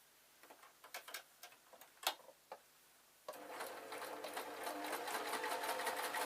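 After a few soft clicks and handling taps, a sewing machine starts up and stitches a beaded clutch bag with a quick, steady ticking whir that continues to the end, close and fairly quiet.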